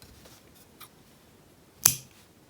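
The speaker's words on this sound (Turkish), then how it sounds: "şimdi bir zincir çekip ipi kesebilirim" One sharp, crisp scissor snip cuts crochet yarn close up, preceded by faint handling rustles in a quiet room.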